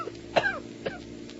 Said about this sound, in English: what is the matter with this cough of mine?